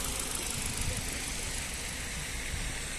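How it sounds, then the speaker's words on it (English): A Ford Focus 1.6 LX petrol estate with 71,000 miles, recently serviced, idles with a smooth, steady hum that holds an even level throughout. "engine sound nice and smooth,"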